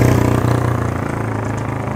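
An old motorcycle engine running with a rough, pulsing mid-pitched throb, close and fairly loud, holding a steady fast idle for two seconds.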